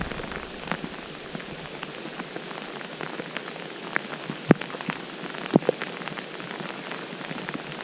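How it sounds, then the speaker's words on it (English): Steady rain patters onto water, a dense hiss of drops with a few louder splashes standing out, continuous and close. "It's a decent amount of rain."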